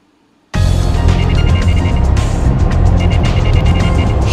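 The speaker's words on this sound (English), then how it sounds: "We're driving fast." A car in the video game The Silver Case speeds along with a loud, steady engine drone that cuts in abruptly after a brief silence and holds continuously to the end.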